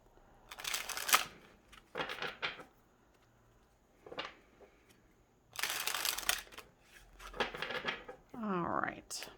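Several short bursts of cards being shuffled and riffled close by, separated by quiet pauses, with a brief clatter near the end.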